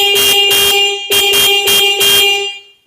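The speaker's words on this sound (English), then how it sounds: "That's actually a pretty loud horn" Horn on a Rosso 36V 800W electric ATV honking loudly in two bursts of rapid, evenly pulsed beeps, a brief gap between them, then fading out; no one talks.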